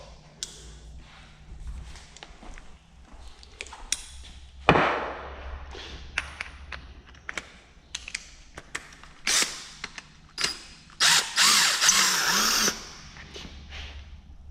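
A power tool, likely an impact gun, is removing bolts during the teardown of a Ford GT500 engine with a broken crankshaft. It fires in short, loud bursts with pauses between them, and metal taps and clanks fill the gaps.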